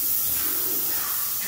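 A paint sprayer hisses steadily as it coats basement walls, a continuous close airy spray that fades slightly toward the end, with no talk.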